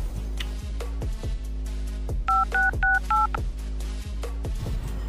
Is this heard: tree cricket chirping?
no